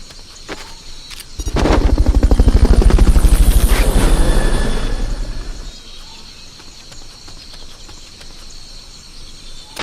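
A helicopter in the video game Metal Gear Solid Peace Walker swells in with loud, rapid rotor thumping that peaks for a few seconds, then fades quickly to a faint background hum.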